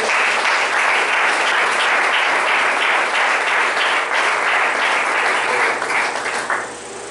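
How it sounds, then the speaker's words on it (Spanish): A church congregation claps loudly and energetically for Christ during a worship service, a thick continuous roar of many hands close by that tapers off at the very end. "Dele fuerte el aplauso a Cristo."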